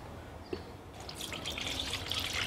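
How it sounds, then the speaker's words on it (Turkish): Homemade lemonade, steeped with lemon peels, is poured through a strainer into a pitcher, giving a soft trickling, dripping stream of liquid that swells after a brief quiet start. "Şimdi içindeki kabukları süzmek için süzgüden"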